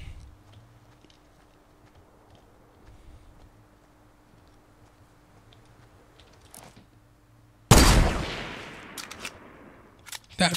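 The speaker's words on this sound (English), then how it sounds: "Sniper battle, boys." Sniper gunfire in Fortnite, mostly quiet at first with faint clicks, then a single loud, sharp shot with a trailing echo near the end, followed by another burst.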